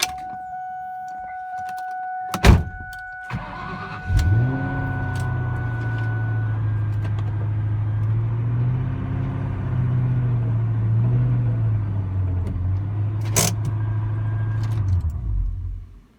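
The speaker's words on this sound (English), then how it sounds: "drive the car up onto a block of wood" A 2003 Ford Mustang Cobra on coilovers rolls up onto a block of wood: a couple of sharp clicks and a thump, then a low engine idle drones and swells steadily for about ten seconds before cutting off.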